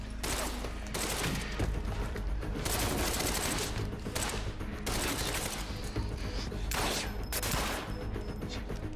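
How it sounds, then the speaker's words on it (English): Gunfire in the video game Quantum Break, bursts of rapid loud shots in several separate volleys with brief pauses between, fairly close and harsh. "Sound effects of the bullets are not matching."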